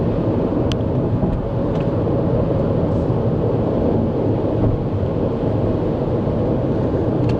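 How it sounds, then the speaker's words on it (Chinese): A BYD Atto 2 cruises at about 140 km/h, giving a steady, dense roar of wind and road noise inside the cabin with no talking. "在140的时候左右， 你才听到那个风声"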